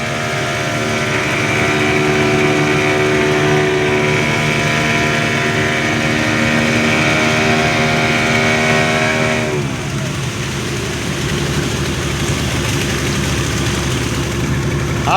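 A boat engine runs steadily near Nivati lighthouse on the Vengurla coast, a constant loud droning hum that drops in pitch and eases partway through, then keeps rumbling on.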